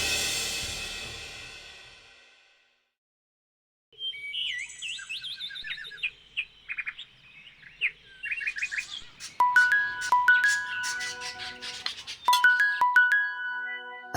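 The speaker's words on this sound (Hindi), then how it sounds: "अरे बीजान का फोन है।" A phone ringtone sounds from nearby, a repeating electronic melody of bright chirpy tones, after an earlier burst of noise and a brief pause.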